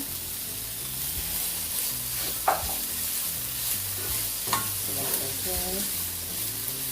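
Scallion frying in a pan for Jamaican steamed cabbage gives a steady close sizzle, with occasional scrapes and clinks as it is stirred and a faint voice in the background.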